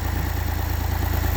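Tractor engine running under strain while pulling a tree, a loud, steady low throbbing rumble with a continuous pulsing rhythm, close and without talk.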